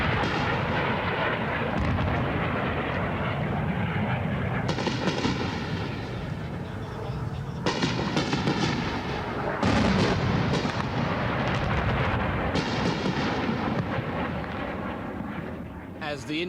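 Indian military jets beating up Dhaka low overhead in the 1971 East Pakistan war, a continuous loud roar with bursts of gunfire and heavy thuds, voices talking throughout.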